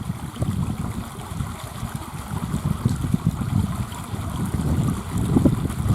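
Steady low rushing and gurgling of small meltwater streams running in a village, with a faint breezy wash over it and no voices.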